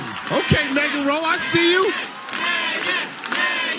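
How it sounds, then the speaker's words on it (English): At an American Ninja Warrior semifinal, an arena crowd chants and cheers a competitor's name during her obstacle run. The chanting rises and falls beneath an announcer's close, excited commentary. "This crowd chanting her name."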